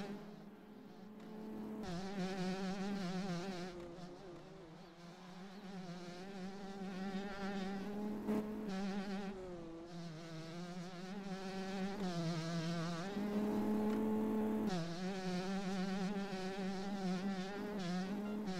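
Motocross bike engine in the MX Bikes video game during a Loretta Lynn's regional race, a steady buzzing drone that rises and falls with throttle changes and gear shifts, loud and continuous throughout.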